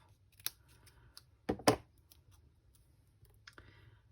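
Scissors cut a strip of adhesive-backed shimmer trim in half: a few quiet, sharp snips, one alone and then two close together, in an otherwise quiet room.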